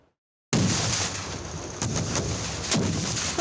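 Live-fire military drill with artillery and rocket fire, a loud sustained roar of repeated blasts opening abruptly after a brief silence, with sharp cracks recurring every few moments.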